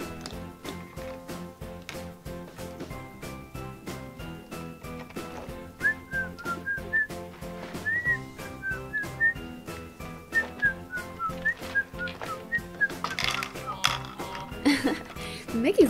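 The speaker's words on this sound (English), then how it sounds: "Mickey's whistling while he works." A cartoon character whistles a cheerful melody while working, over a steady ticking, tapping mechanical rhythm of gears and ratchets, with some speech-like sounds toward the end.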